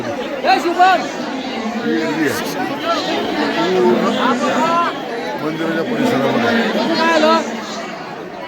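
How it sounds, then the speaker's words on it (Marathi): A dense crowd murmurs and chatters continuously in the grounds of the Mahalakshmi temple in Kolhapur, many voices overlapping at close to mid distance, with one nearby speaker standing out briefly. "फुल गर्दी आहे"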